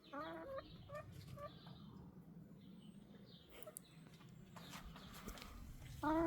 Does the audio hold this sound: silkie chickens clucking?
yes